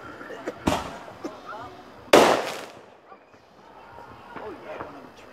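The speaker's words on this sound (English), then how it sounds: "it must be we got the fireworks over here" Fireworks bursting outdoors at night near trees by a lake, two sharp loud explosive pops a second or so apart, with people chatting quietly between them.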